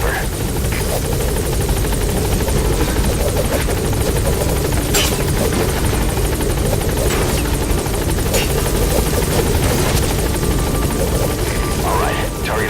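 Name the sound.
helicopter in Metal Gear Solid 5 video game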